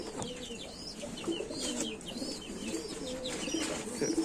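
Pigeons coo softly and repeatedly in a rooftop coop, low rolling calls overlapping at close range with a few faint chirps and wing flutters in the background.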